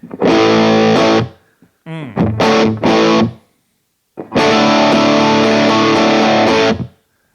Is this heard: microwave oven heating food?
no